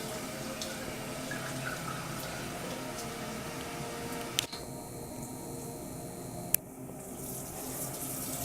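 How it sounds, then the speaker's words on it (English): Water running from a tap into a room sink to wet towels, a steady faint rush with a couple of brief clicks and a clatter near the end. "Wet them in the sink."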